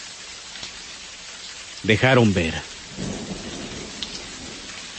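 Steady rain pours through a thunderstorm with low rumbling thunder underneath, while a voice speaks briefly over the downpour.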